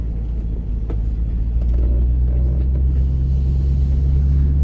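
A 1993 Range Rover Classic 200 TDI diesel driving around a car park, its low engine rumble steady and close, building slightly after the first second and holding even, with no talk.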